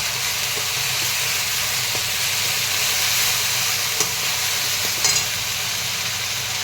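Ginger paste, cumin and chilli paste with turmeric frying in a pan for a jackfruit seed dish, a steady loud hiss close by with a couple of small knocks.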